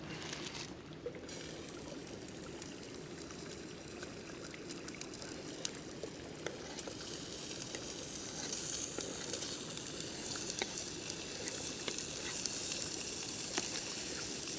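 Pre-cooked food sizzles steadily while being heated in a GSI Glacier stainless one-person mess kit pan, a continuous close frying crackle with occasional sharper pops and light stirring scrapes.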